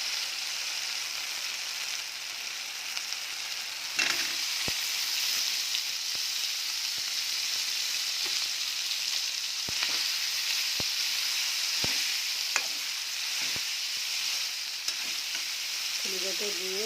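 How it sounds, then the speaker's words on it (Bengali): Goat liver sizzles and fries in a pan of spiced masala made with chili, onion, ginger, garlic, cumin and garam masala, a steady close hiss broken by occasional stirring scrapes, with no talking. "কলিজা ভাজা হচ্ছে।"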